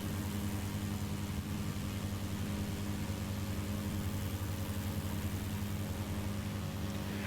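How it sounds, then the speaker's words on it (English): Mosquito XE experimental home-built helicopter engine idling in Microsoft Flight Simulator 2020, a steady low droning hum with constant tonal bands, heard from outside the aircraft without voices. "let's go outside so you can hear the engine."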